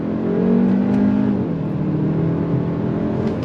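A 2024 Hyundai Elantra N-Line pulling hard in first gear, the engine note rising in pitch as it revs up and then easing off, heard loud and close from inside the cabin.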